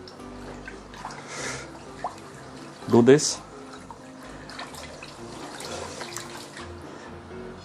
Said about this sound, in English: So let's wash the rice.